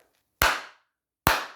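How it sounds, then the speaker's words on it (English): Two sharp, close hand claps spaced under a second apart, each a crisp isolated snap with a short decay, made to trigger a sound detector module that lights LEDs. "Yeah, see how I'm clapping?"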